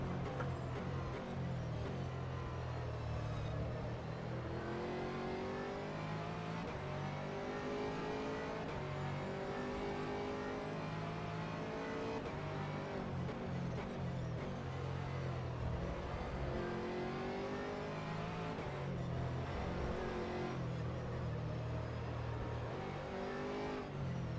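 A GT3 race car in the rFactor 2 racing game on the Autopolis circuit roars continuously, rising and falling as gears change and occasionally bouncing off the rev limiter, loud and unbroken for the whole stretch with faint talk beneath.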